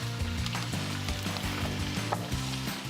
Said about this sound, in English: when that starts sizzling a little bit, we're gonna add the meat.